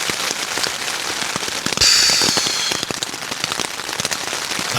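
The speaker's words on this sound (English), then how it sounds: "It's pissing with rain." Heavy rain pouring down outdoors at a campsite at night, a dense steady hiss with scattered sharp drop impacts and crackles, close and loud throughout with no talking.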